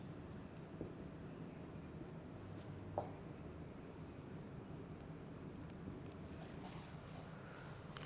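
Faint, steady scratching of a heading being written during a chemistry lecture, soft and continuous with only a couple of slightly louder strokes and no talking.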